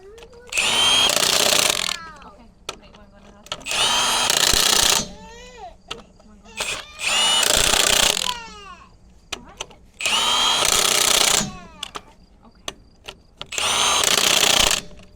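Loud bursts from a big impact gun tightening lug nuts on a pickup truck's wheel, five roughly two-second rattling runs separated by short pauses with faint clicks and brief talk between them.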